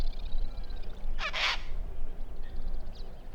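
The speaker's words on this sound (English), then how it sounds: "A relatively large member of the cockatoo family, and known for its highly intelligent behaviour." A sulphur-crested cockatoo gives one loud, harsh screech of about half a second, rising out of faint background birdsong in the open country around a lagoon.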